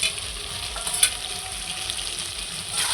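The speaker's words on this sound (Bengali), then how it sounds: "পটলটা দিয়েও আমি খুব সুন্দর করে একটু নেড়ে নিচ্ছি" Fried pointed gourd stirred into spice masala for aloo potol dalna, a steady bright sizzle with one brief sharp knock of the spatula and soft stirring scrapes.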